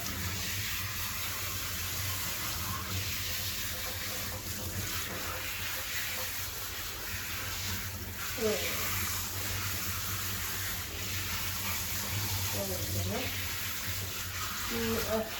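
Running water rinsing a cockapoo dog in a bath, a constant close hiss of spray with a voice talking faintly underneath at times.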